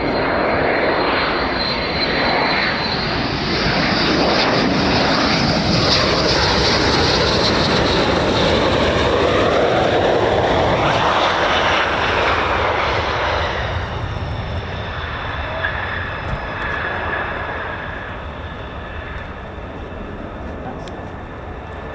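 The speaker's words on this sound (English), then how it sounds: "more aircraft coming back. We've got another 2" Military fighter jets, F-15s and F-35s, pass over RAF Lakenheath in a loud, sustained roar that swells past its peak and slowly fades as the aircraft move away, with faint talk underneath.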